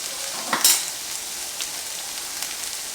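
Sausages and potatoes sizzle steadily in a frying pan, a continuous close crackle with a brief louder burst of spatter early on and a few faint clinks, no voices.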